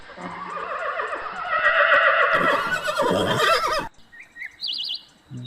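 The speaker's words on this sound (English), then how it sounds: "horse" A horse gives a long, loud whinny that rises and then trails off, followed by faint bird chirps in the quiet that comes after.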